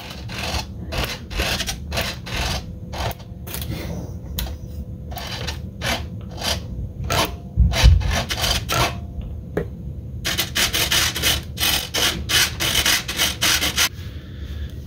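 Screws being undone and parts repositioned on an RC plane, heard up close as a steady run of small clicks, scrapes and rubs, with no talking.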